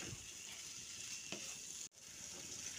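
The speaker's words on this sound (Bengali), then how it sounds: "খুব ভালোভাবে এটাকে কষিয়ে নিতে হবে।" Spiced potato and pumpkin sauté in a pan, giving a steady close sizzle with a soft stirring scrape partway through and a brief dropout near the end.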